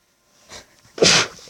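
A single close, loud sneeze bursts out after a short breathy intake, alone without talk.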